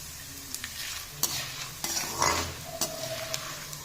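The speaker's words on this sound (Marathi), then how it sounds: "अशा प्रकारे सर्व डिंक तळून घ्यायचा तुपामध्ये" Edible gum (dink) frying in ghee in a pan, a steady soft sizzle and bubbling with occasional sharp stirring clinks of a utensil against the pan.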